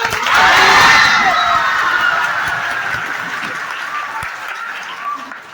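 An audience claps loudly at a poetry recitation held for a Guru Day event, a dense burst of applause that peaks early and then slowly fades over several seconds, with scattered cheers mixed in.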